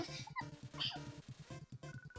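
A dog in the Undertale video game whimpers and yips in short, high, repeated bursts, fairly faint and electronic in tone, with no talk over it.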